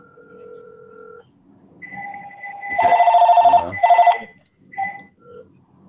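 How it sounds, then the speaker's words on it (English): A home phone line rings through a call, a few warbling electronic rings and tones in short bursts, with a voice briefly heard near the end. "Let me call your home phone."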